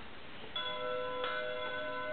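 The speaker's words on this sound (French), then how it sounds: "Ce sont les cloches du mariage." Wedding church bells ring out with a clear metallic tone, struck a couple of times and left to sustain, sounding somewhat distant over a quiet background.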